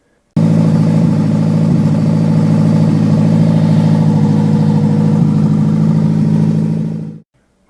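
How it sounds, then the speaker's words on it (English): Locost Super 7 kit car engine running through an open header with no exhaust system, a loud, steady, close-up idle with a throaty low rumble and slight rhythmic pulsing, holding for about seven seconds before cutting off abruptly. "While the sound of the engine with open header was kind of cool"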